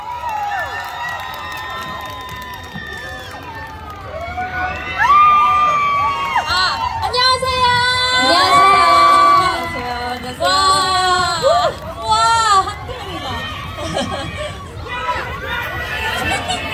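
A festival crowd cheers, shouts and claps as the K-pop group Dreamcatcher takes the stage at the Green Ribbon Marathon Festival, a loud, sustained roar that swells midway and carries shrill cries over continuous clapping.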